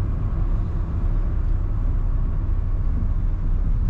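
Diesel engine of a 2001 Ford F-250 Super Duty XLT Lariat crew cab heard from inside while driving: a steady, even low rumble and drone that holds constant throughout, with no talking.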